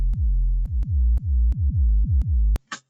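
An unprocessed drum and bass synth bassline plays solo, a run of deep punchy notes with sharp attacks and short decays in a steady rhythm, stopping abruptly before a brief noisy burst.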